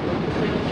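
An air-conditioned local train on the Ranaghat–Sealdah line, built with Vande Bharat technology, rumbles along in a loud, steady low roar heard from inside the coach.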